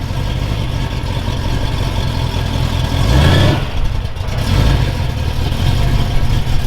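A manual Hellcat Charger, mid-build with a custom transmission tunnel, runs under its own power, its engine a steady loud rumble that swells briefly as it moves off, with no voices over it.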